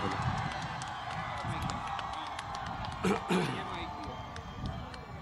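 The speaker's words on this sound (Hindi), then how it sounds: "आपकी भरपूर तालियों में दावत सुखन दूंगा चेयरमैन पाकिस्तान तहरीक इंसाफ इमरान खान" A university audience in Sargodha, Pakistan applauds and cheers for Imran Khan with steady, dense clapping and crowd noise. Scattered shouts rise through it, with a brief louder burst near the end.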